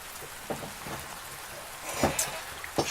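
Outdoor rain falls as a steady soft wash with scattered louder drips and splashes nearby, some brief sharper hits toward the end, and no voices.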